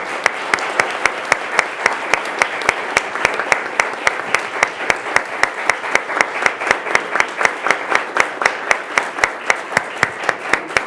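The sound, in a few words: applause and standing ovation at city council meeting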